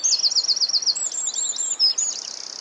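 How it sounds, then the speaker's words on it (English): Small birds chirp and trill softly in a forest at dawn, a run of quick high repeated notes followed by scattered brighter tweets, fairly close and alone with no voices. "Birds chirp softly as the sun rises."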